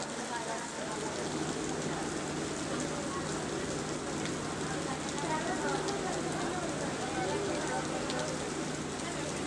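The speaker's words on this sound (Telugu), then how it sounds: "చూడండి, ఆ వర్షం, ఆ చల్లగాలి," Steady rain falls with a cool wind, a dense, even hiss that holds at moderate loudness throughout, with a voice faintly present at times.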